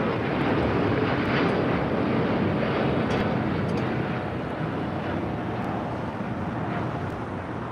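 Heavy jet airliners taking off at LAX, a broad, sustained engine roar mixed with wind noise, loud and steady before easing slightly toward the end.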